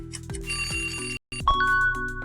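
Metallic bell rings repeatedly, several sharp strikes with a sustained ringing tone, then a brief silence and another ring, loud and close.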